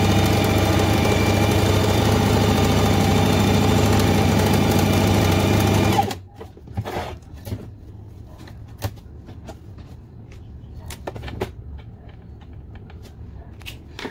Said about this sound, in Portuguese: coloquei aqui costura reta, ponto número 1, e vou fazer a costurinha.